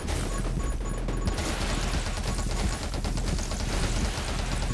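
Nonstop rapid gunfire in the video game 20 Minutes Till Dawn, a dense, steady barrage of shots layered over game effects and music, loud and without pause for the whole stretch.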